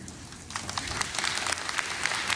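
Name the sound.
audience cheering and applauding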